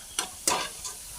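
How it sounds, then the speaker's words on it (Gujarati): Dhebra flatbread frying in hot oil for a village cooking day, with short bursts of sizzling and bubbling over a steady background hiss, close by. "ઢેબરા તળાય છે"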